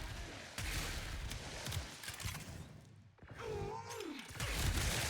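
Gunfire in the shooter game Warframe: several sharp, quiet shots with crackling impacts, then a pause and a brief voiced sound before more firing.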